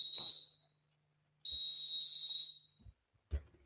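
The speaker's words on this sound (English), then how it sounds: "Blow the whistle." A shrill whistle sounds in sharp blasts: a short toot, then a long sustained blow of about a second, followed by a brief thump and a small knock, loud and close with no talk.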